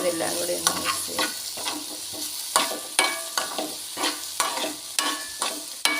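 An ivy gourd stir-fry seasoned with Kashmiri chilli powder is stirred in a pan, with repeated sharp spatula scrapes at a steady rhythm over a constant sizzle, close and alone.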